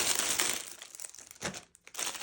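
Plastic packaging of a 200-piece pack of paper library card pockets and cards crinkles and rustles as it is torn open, loud and continuous at first, then in shorter bursts after a brief pause.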